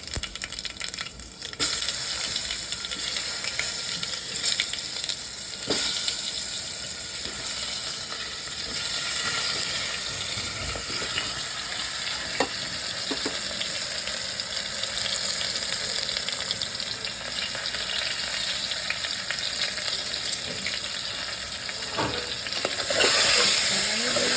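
Eggplant hitting hot oil with cumin, asafoetida and mustard seed tempering, giving a continuous, close, busy sizzle with occasional stirring clinks and a brief louder hiss near the end.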